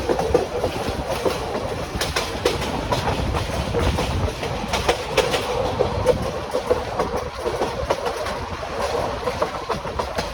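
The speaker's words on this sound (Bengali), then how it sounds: "আমাদের ট্রেন চলছে দ্রুত গতিতে।" Jamalpur Express passenger train from Dhaka runs fast past Bhawal Gazipur, heard from inside as a loud continuous rumble with rhythmic clickety-clack of wheels over rail joints throughout.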